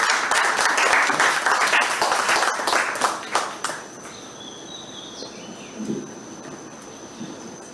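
An outdoor audience at a cadet graduation claps in a dense burst that fades away after a few seconds, leaving crickets chirping faintly in the background.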